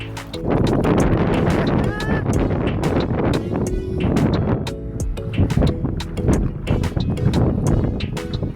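Strong wind buffeting the microphone outdoors at a river spot during wing foiling, a loud continuous roar with gusty rumble throughout, with a voice talking faintly within it.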